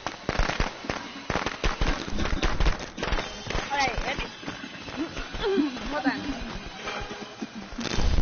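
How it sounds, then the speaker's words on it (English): Firecrackers pop in the Friday the 13th video game, a quick burst of sharp cracks early on, heard under steady chatter from the players. "Oh yeah, firecrackers?"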